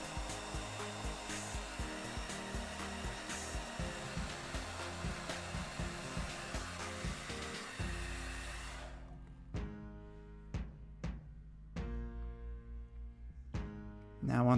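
A heat gun blows steadily while warming vinyl skin film on a Pebble watch, a loud continuous whooshing roar for about nine seconds, then cutting off to leave a quieter room with scattered clicks and light handling sounds.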